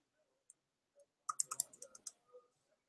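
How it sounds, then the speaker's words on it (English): Someone types a short word on a computer keyboard, producing a quick, close burst of about eight soft key clicks after a couple of isolated taps, all very quiet. "let's type in Google."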